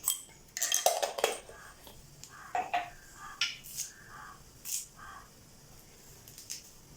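Mustard seeds splutter in hot oil in a pan for chicken curry, giving scattered sharp crackles and pops at an irregular pace, close by and fairly quiet, with no talking.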